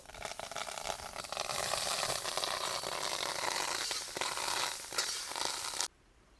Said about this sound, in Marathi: तेल टाकून घेऊ मोहरी कांदा चांगला लालसर परतून घ्यायचा आहे